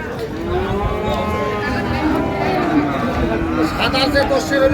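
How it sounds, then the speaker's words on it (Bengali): A Sahiwal cow lets out a long, drawn-out moo close by, followed by further lowing amid the chatter and bustle of a crowded outdoor cattle market in Dinajpur, Bangladesh. "আমরা দেখছিলাম এখানে যে গরুগুলো কিনছেন মমিন ভাই"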